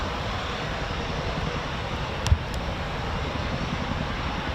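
A Eurofighter Typhoon FGR4 jet of 12 Squadron roars on takeoff at RAF Coningsby, a loud, steady broadband engine rumble heard from a distance with a brief thump in the middle.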